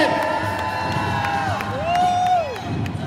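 Crowd at a tattoo convention in Philadelphia cheering and shouting continuously, a dense roar of voices with whoops and a long rising-falling scream rising out of it.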